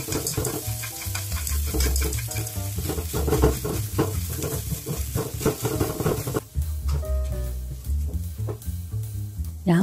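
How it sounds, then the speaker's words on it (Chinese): Eggs are stirred fast in hot oil and broken into small bits, with a loud continuous sizzle and busy clattering strokes that thin out midway before picking up again, and no talk. "放入鸡蛋，然后快速的搅成小碎丁儿。"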